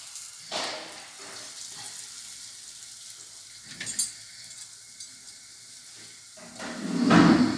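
Sfenj dough frying in hot oil gives a soft, steady sizzle with occasional clinks and stirring noises, swelling into a louder bubbling hiss near the end.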